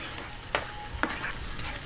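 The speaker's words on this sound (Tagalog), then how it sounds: "kulo na at gisang-gisa na po yung ating bagoong" Bagoong shrimp paste sautés and simmers in a pan with a steady, close sizzle, broken by a couple of brief stirring scrapes.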